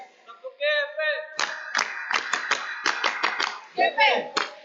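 A youth church congregation performs a clapping chant: voices sing a short call, then sharp group hand claps fall in a rhythmic pattern mixed with chanted voices, loud and close.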